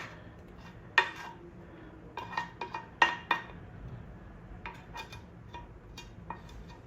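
Brownie batter for double chocolate zucchini brownies is scraped from a mixing bowl into a baking pan, with a few sharp spatula knocks against the bowl and soft intermittent scraping, close and fairly quiet.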